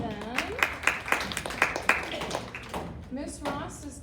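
An audience at an elementary school spelling bee claps for the student representatives and school champion, with a scattering of sharp claps and a speaking voice heard over them.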